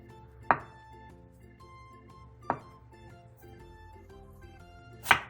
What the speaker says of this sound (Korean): 두부 한 무를 1cm 정도 두께로 두툼하게 잘라주세요